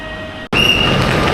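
A train rolls slowly into a station with a steady broadband rumble and a faint high wheel squeal, loud and close after a brief moment of quiet.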